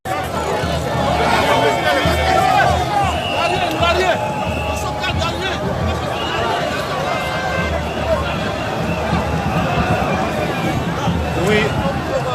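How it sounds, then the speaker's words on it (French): A dense crowd in Côte d'Ivoire waits for the authorities, a constant loud hubbub of overlapping chatter and shouts that fills the whole stretch, with nearby voices rising above the babble. "La foule attend les autorités."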